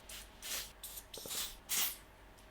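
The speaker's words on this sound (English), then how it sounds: "I spray it really close to my face, and then I come with a little bit of 301." An Air Flash airbrush sprays makeup close to a face in several short, soft hissing bursts with brief pauses between them, ending in a sharper sound.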